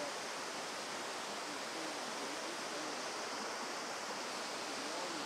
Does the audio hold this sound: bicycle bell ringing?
no